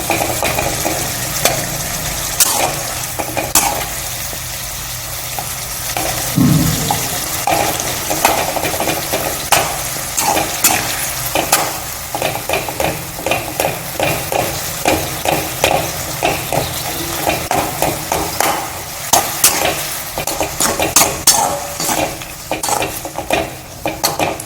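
Tomatoes are stirred and sautéed in a pan for a tomato-date jam, with a steady loud sizzle and frying crackle under repeated scraping and clinking of a utensil against the pan, close and continuous with no voices.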